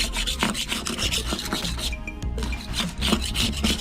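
Barnacles are scraped off a boat hull with a tool: fast, rough, rasping strokes in a steady rhythm, close and loud, with one brief pause partway through.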